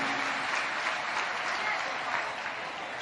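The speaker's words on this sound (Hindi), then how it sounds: "एक बार जोरदार ताली बजाकर स्वागत वंदन अभिनंदन है" A large crowd at a Shiva Mahapuran religious gathering in Kashi claps loudly and continuously in welcome, a dense sustained roar of applause.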